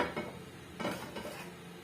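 A spoon scrapes and clinks against a pan while stirring dry-roasted mustard seeds, cumin and red chilies for homemade rasam powder, with soft rustling and faint sizzle, quiet and close, no talking.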